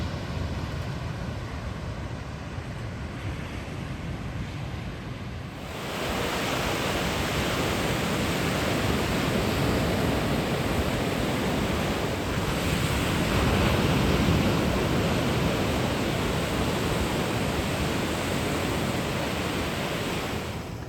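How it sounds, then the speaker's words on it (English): Sea waves on an African shore wash in as a continuous roaring surge, quieter at first and then swelling louder and fuller, with some wind buffeting the microphone and no voices. "the sound of the sea"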